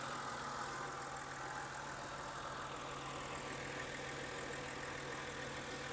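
A car's engine idles roughly at a salvage auction walk-around, a steady low, even drone with faint irregular knocking, alone and at moderate distance with no talk.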